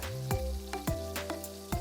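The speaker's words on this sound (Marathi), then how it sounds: "आता मी उरलेल्या सगळ्या ज्या भेंड्या आहेत त्या तळून घेते आहे" Okra (lady's finger) pieces are deep-fried in hot oil until crisp, giving a steady close sizzle broken by a few sharp pops, with sustained tonal sounds running underneath.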